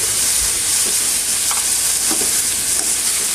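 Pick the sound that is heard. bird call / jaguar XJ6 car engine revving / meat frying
meat frying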